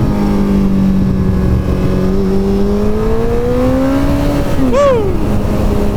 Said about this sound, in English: Wow, first gear on this bike is so good.